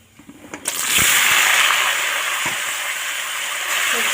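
Vegetables tipped into hot oil tempered with whole cumin and bay leaf, a few soft knocks followed by a sudden loud, sustained close sizzle that hisses steadily and fades slightly.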